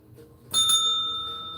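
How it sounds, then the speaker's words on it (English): A bicycle-style bell rung once in a garden, a bright metallic ding that rings out clearly and decays over about a second, alone without talk. "Forgot to ring the bell."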